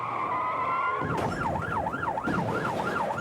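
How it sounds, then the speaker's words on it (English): A stolen car spins out across the road after taking a corner at uncontrollable speed, with loud wailing police sirens rising and falling over engine and tyre noise throughout. "As the offender takes the corner at an uncontrollable speed, the stolen vehicle spins across the road."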